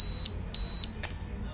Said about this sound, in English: That beeping sound will sound when the element is turned on